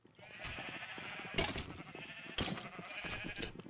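Sheep in the Minecraft video game bleating, several loud, close, wavering bleats in quick succession with brief pauses between.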